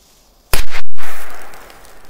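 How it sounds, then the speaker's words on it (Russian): A red K1000 firecracker bursts in the snow with a single sharp, loud bang at close range, followed by a trailing rumble that fades over about a second and a half. "Для следующего взрыва у нас имеется вот такая K1000. Красная. Давайте ее взорвем непосредственно вот здесь"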